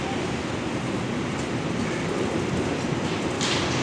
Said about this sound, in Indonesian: Kawis priority di paling belakang dengan kereta api Argo Dwi Pangga tambahan.